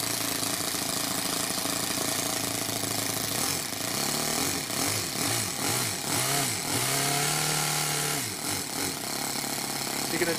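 A Toyan FS-S100A miniature four-stroke engine with an aluminium fuel tank runs loud and close with a steady buzzing drone, its pitch swooping up and down several times as it revs.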